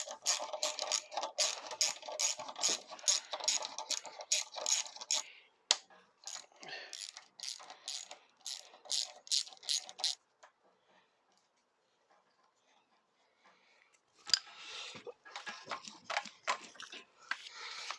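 A ratchet clicks rapidly in bursts as bolts are undone on the handlebars of a Yamaha TZR 125 motorcycle, close and crisp, with a quiet gap in the middle before the clicking resumes.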